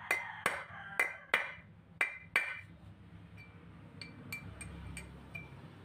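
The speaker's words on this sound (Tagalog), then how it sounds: "pupukin lang na martilyo." Several sharp metallic hammer taps on a wheel hub bearing shell of a Mitsubishi L300 ring out in quick succession, then a pause and a second lighter run of clinks, close and distinct.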